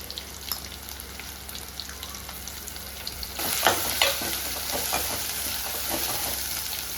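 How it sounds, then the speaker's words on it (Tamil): Garlic sizzles and crackles as it sautés in a hot pan, growing louder midway with a few stirring scrapes. "வெள்ளைப்பூடு கொஞ்சம் நல்லா பச்சை வாசனை போகிற வரைக்கும் நம்ம நல்லா வதக்கி விட்டுக்கணும்"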